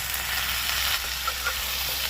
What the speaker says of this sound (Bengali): এবার এগুলোকেও ভালো করে ভেজে নেবে